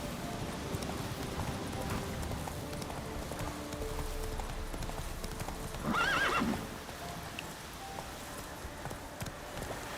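Horse galloping in the video game The Witcher 3, with steady rhythmic clip-clop hoofbeats throughout and a short whinny midway, over a background hiss resembling rain.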